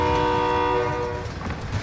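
A train in a video game passes as a steady, loud horn-like drone with rumbling wheels beneath, and the tone fades as the rumble carries on.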